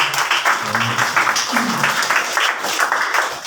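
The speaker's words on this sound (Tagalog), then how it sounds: "Isa pang palakpak para kay Kuya Rani." Applause from a church congregation in a Filipino gathering, a steady patter of claps filling the room, with some voices audible in the crowd.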